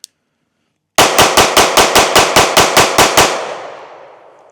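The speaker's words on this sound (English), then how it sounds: "All right, another 100 rounds down. That's 400 rounds through the GX2." Taurus GX2 pistol fired in a rapid string of about eleven sharp, loud, evenly spaced shots after a moment of silence, with the last report fading into a long echoing tail.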